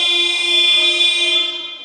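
A loud, sustained electronic buzzer sounds in a basketball arena during a women's WNBL1 game, a steady harmonic tone holding for nearly two seconds before fading slightly at the end.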